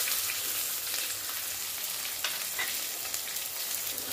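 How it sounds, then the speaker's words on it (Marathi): Chopped onion and green chillies fry in a pan, a continuous soft hiss of sizzling oil with faint irregular crackles, close and even throughout with no voices. "कांदा छान तांबूस होईपर्यंत भाजून घेऊया"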